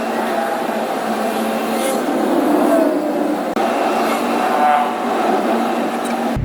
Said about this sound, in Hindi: ये मेट्रो है, ये ऑरेंज है। अच्छा ऑरेंज ट्रेन है